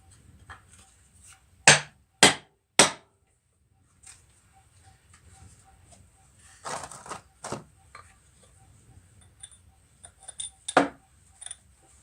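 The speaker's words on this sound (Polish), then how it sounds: "Jakiś żywawszy młotek trzeba znaleźć." A hammer strikes the front axle of a Kubota L4150DT tractor in a workshop, three sharp metallic blows followed by scattered lighter knocks and clinks after quiet pauses.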